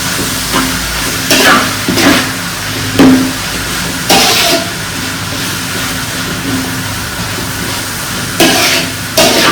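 Beetroot sautés in oil in a pan, giving a loud, steady frying hiss broken by intermittent scraping stir strokes, close up with no talking.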